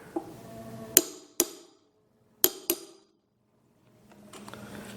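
A part of a mixer grinder is tapped into position: a few sharp, close metallic taps in two pairs, separated by short quiet gaps, with a faint rustle at the end.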